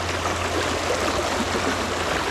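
A creek flows in a steady, close, broadband rush of water with a soft gurgle throughout, no voices over it.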